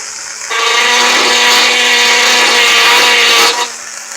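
A power drill works a stone for jewelry making, running as a loud, steady whine for about three seconds with a sharp start and stop and no talking.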